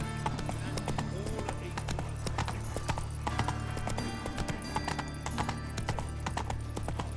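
Roach, a horse in The Witcher 3, clip-clops steadily along with a continuous run of hoofbeats, close and fairly loud over a low game ambience, with a brief snort or whinny and some voice in the mix.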